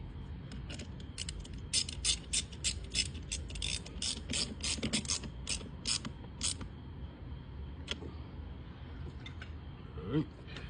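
A ratchet cranks down a battery cable clamp on a 2015 Ford Mustang GT, giving a long run of rapid, close clicking strokes followed by sparser clicks, with faint talk in the background.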